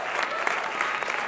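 Audience applause at a televised dance competition gala concert, a steady dense clapping from a crowd filling the whole moment without a break.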